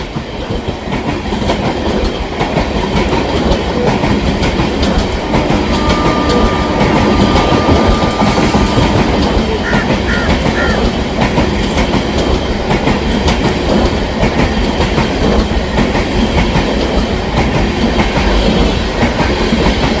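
The Sealdah–New Delhi Rajdhani Express, a Northern Railway rake with automatic doors hauled by a Howrah WAP7 locomotive, runs past with a loud, steady rumble and rhythmic clickety-clack of wheels on rail joints throughout, with no voices.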